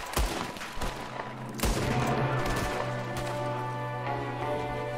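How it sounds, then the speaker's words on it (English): Gunfight in Red Dead Redemption 2, with repeated loud gunshot cracks over a dense, sustained battle din and steady low hum, including a gunman firing from a window. "There's another one shooting from the window."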